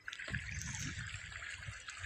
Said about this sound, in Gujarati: આવી રીતે કંઈક પાણી જાય છે, સરસ મજાનું પાણી જાય છે